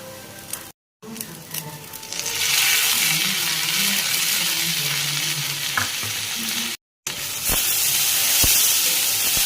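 Chopped tomatoes fry and hiss loudly in a pan as they are stirred, a close, dense sizzle with scraping and a few sharp clicks, broken by two brief silent gaps.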